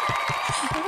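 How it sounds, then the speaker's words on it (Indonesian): Audience applause, a short burst of rhythmic, fairly loud clapping with a faint voice underneath. "Tepuk tangan dulu."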